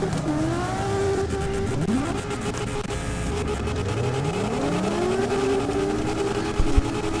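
Cars in CarX Drift Racing Online drift and drive at a car meet, with engines revving up and down in rising and falling sweeps, and tires squealing throughout.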